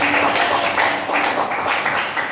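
A class applauding together, many hands clapping in a dense, steady burst that stays loud and fairly even for a couple of seconds, with no voices.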